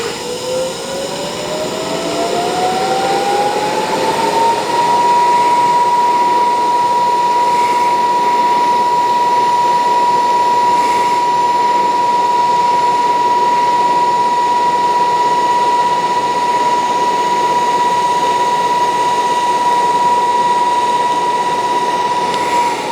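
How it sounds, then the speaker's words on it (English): TIG welding on a steel tank stand with a Miller Multimatic 220 machine: a steady, loud continuous hiss and hum with a rising tone that settles into a sustained whine, running alone without talk. "I'll get these welded out and then I'll come back and give you guys a look."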